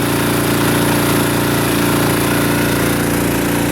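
A semi-trash pump engine runs steadily at a loud, constant idle-like drone, close by and alone, pumping sand-laden water at a river site.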